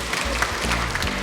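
Audience in a parliamentary chamber breaking into applause, a dense patter of clapping that swells in short waves over roughly a second.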